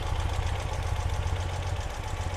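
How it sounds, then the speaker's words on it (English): A 2018 Ural Gear Up motorcycle in Cascade Green idles after a cold start in a showroom, a steady low, throbbing engine pulse held at an even rhythm, fairly quiet and alone. "as you can see, it idles beautiful. And yes, it was a cold start."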